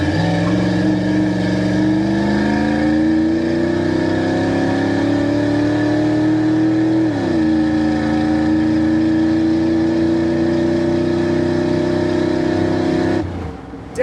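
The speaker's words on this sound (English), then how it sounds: "we'll really roll into the throttle here, get another aggressive acceleration for y'all" A 1993 Ford Lightning pickup with 107K miles accelerates hard, its engine note climbing steadily, dipping at a gear change midway, then rising again before cutting off abruptly. It is loud and close, with no talking.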